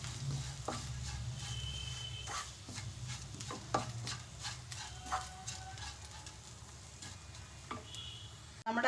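Coconut, coriander seeds and onion dry roasting in a pan for laddu, giving a steady low sizzle with sharp clicks and scrapes of stirring throughout, close and alone.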